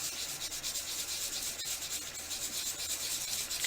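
Steady, rhythmic scratchy rubbing of sandpaper on a small piece of Sculpey III polymer clay, close and soft, repeating back and forth with no voices.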